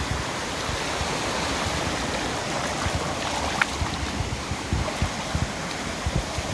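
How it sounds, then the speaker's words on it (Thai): A waterfall in a natural setting near Vang Vieng, a steady loud rush of flowing water that fills the whole clip without pause. "อันนี้น้ำตก"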